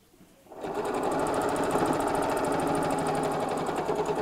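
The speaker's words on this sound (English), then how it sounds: "then we'll sew again up to about 4 inches, reverse back" A sewing machine runs steadily, stitching a seam on a chenille clutch bag, its fast rhythmic needle clatter starting after a brief quiet moment and continuing close and loud to the end.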